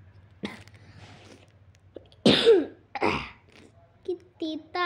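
A person coughs a few times after sipping bitter Nescafe, with two strong close coughs in the middle and soft voice sounds before and after.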